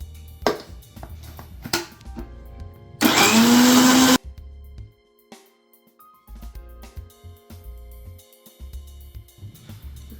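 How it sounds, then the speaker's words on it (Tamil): A kitchen mixer grinder whirs for about a second as it grinds pizza sauce ingredients, a loud high-pitched burst between quieter clinks and handling sounds. "இப்போது எல்லாத்தையும் மிக்ஸி ஜாரில் போட்டு அரைச்சி எடுத்துக்கலாம்."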